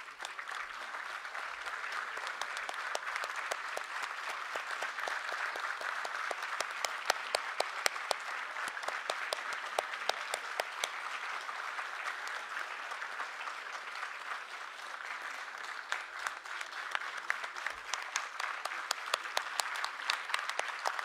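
Sustained applause from a large audience at a university convocation for medical sciences in Bhutan, a steady dense clatter of many hands holding even for about twenty seconds with a few sharper claps standing out, heard from within the hall.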